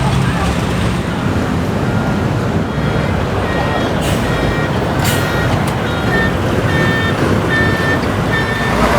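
A tow truck reverses on a busway, its faint, regularly repeating backup beeps sitting in a thick wash of roadway traffic noise.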